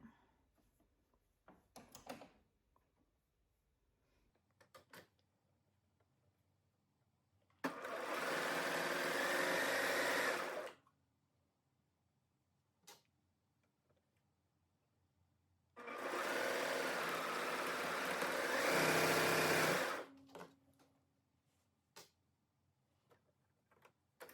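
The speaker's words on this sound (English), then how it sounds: "catching both of these raw edges into our serge seam" A serger sews the raw edges of a dress bodice in two bursts of rapid, steady machine whirring, each lasting about three to four seconds, separated by quiet handling clicks.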